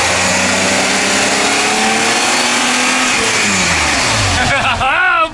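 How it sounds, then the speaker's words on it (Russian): A 400-horsepower Mercedes V12 car engine revs loudly and steadily, pitch rising and falling as the throttle is blipped, close by. "Можно погазовать, да?"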